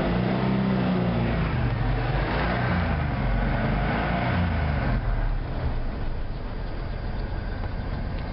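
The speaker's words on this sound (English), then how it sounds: "Get here and rev it out the exhaust." A Ford truck engine revs loud and close through its exhaust, a steady rumbling roar that eases slightly partway through, with no talking over it.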